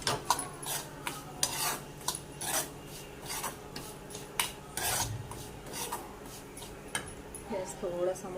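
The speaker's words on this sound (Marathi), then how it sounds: "रवा लालसर होईपर्यंत भाजायचा आहे जेणेकरून आपला प्रसाद चवीला छान होईल" Semolina (rava) roasts in a pan while a spoon scrapes and stirs it in repeated rasping strokes, close and fairly quiet, with clinks of metal between strokes.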